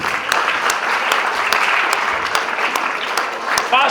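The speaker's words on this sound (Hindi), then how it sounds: "ताली बजाए" Steady applause from students at a class 10 school farewell programme continues throughout, with crisp individual claps under an adult calling out instructions.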